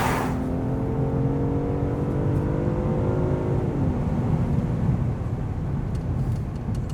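The 375-horsepower engine of a Genesis G80 sedan accelerates in sport mode with a steady, smooth drone that climbs in pitch, heard from inside the cabin with no talking.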